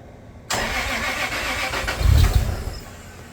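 Toyota 2JZ-GTE engine swapped into a Lexus IS300 and run on a FuelTech FT550 fires up for the first time, an abrupt loud catch into a rough idle followed by a short heavier rev burst, nearby and alone.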